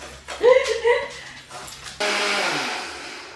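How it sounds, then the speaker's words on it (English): A kitchen mixer grinder blends whole peppercorns, grated coconut, salt and tomato into a paste for sambar. It starts abruptly partway through as a loud, steady roaring whir right after a brief voice, and keeps running to the end. "To make sambar, I add in whole peppercorns, handful of grated coconut, salt, 1 tomato, grinding it into a paste."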